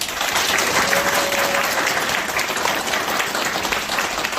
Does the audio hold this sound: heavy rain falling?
no